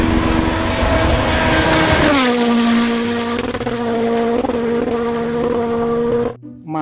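Toy race car whining up to speed and dropping pitch, a steady loud motor drone with rising and falling tones close by, cutting off near the end.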